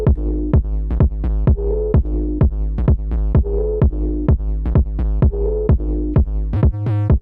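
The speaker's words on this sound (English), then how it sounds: "let me just only play the kick together with that" Punchy kick drum hits in a club-style electronic beat land on a regular four-on-the-floor pulse over a thick, pumping synth sub bass line, loud and upfront, with a short fill at the end and no voices.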